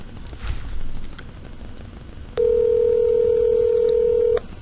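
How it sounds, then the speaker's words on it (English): A telephone is dialed, with brief faint tones giving way to a loud, steady dial tone that holds for about two seconds over low room noise. "get Nick on the phone here."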